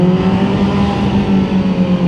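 A car driving on a road into London, its engine humming steadily with a low droning tone and road noise heard from inside the vehicle, continuous and fairly loud with no talking.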